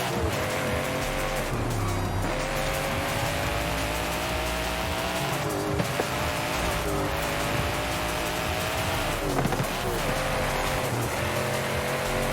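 Car in Forza Horizon 5 driven hard, with a loud, steady engine drone and repeated tire squeals and skids running through the whole stretch.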